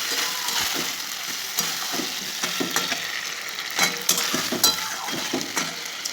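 Potatoes frying in a pan for a tangra fish curry, a steady close sizzle with intermittent stirring scrapes and clicks throughout, no talking.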